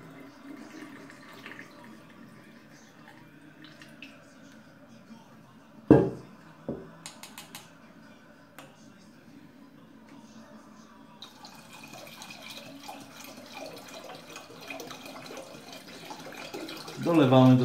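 Water mixed with honey poured into a bottle while making homemade habanero vodka; after a couple of sharp knocks, a steady liquid trickle builds from mid-clip and swells louder toward the end, with faint talk underneath.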